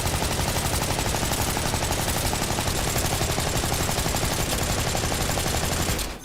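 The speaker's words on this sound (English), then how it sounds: "This is how many bullets I can shoot." An action skill in Borderlands 4 unleashes sustained rapid-fire gunfire, a dense, loud, continuous stream of shots for about six seconds before cutting off abruptly.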